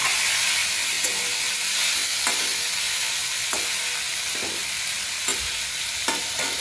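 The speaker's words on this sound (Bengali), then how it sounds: "এইভাবে নেড়ে ঢেকে রেখে দেবো।" Apple chutney sizzles steadily in a hot pan while being stirred, a continuous broadband frying hiss broken by several sharp scraping clicks of the spoon against the pan, close and alone without talk.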